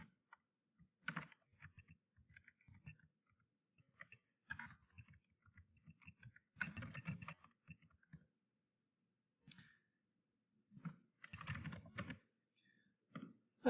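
Typing on a computer keyboard: bursts of quick, close clicking keystrokes in irregular clusters, with pauses between runs and no speech.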